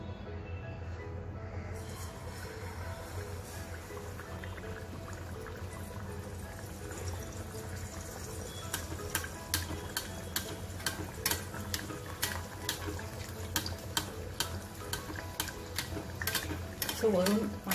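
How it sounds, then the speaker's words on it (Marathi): Batter-coated bread slices for bread pakoda sizzle in hot oil with a steady low hiss, joined in the second half by sharp clinks and taps of a utensil against the pan. "आता आपलं तेल तापलंय. आपण आता यात हा कोट करून घेतलेला ब्रेड यात घालू आपण."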